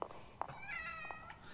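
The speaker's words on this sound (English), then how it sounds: "Kitty cat! Safe spot." A cat meows in The Evil Within: The Assignment DLC horror game: one drawn-out, clear meow in the middle, with short soft clicks and a low game ambience around it.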